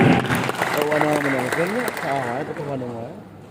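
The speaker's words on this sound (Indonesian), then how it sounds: "Beri tepuk tangan yang meriah." A crowd applauds at a motivational gathering for village heads in West Java, a steady wash of clapping under a voice speaking over it, fading slightly toward the end.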